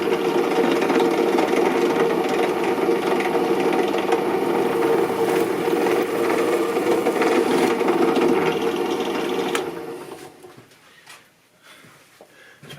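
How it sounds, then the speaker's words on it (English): A drill boring holes into plastic bass end stops for a Castagnari Sander accordion, a steady loud whirring grind for about nine seconds, then stopping, followed by quieter scraping and handling. "you can only really drill one and then you need to clean the bit out because the plastic grips to it"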